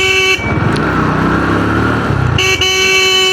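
Car and motorcycle horns blare in congested Dhaka traffic, a loud sustained honk running almost continuously with a brief break near the end, layered tones stacking over steady engine rumble close by.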